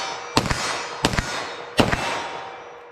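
A handgun fires Remington Golden Saber rounds in 9mm and .45 ACP at a range, with three loud, sharp shots spaced roughly evenly, each followed by a brief echoing tail.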